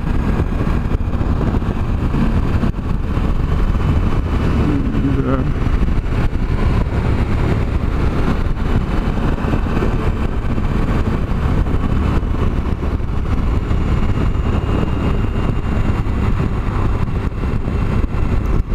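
A 2014 Suzuki V-Strom 1000 motorcycle underway, its engine running under a constant loud roar of motor and wind noise that never lets up, with no voices.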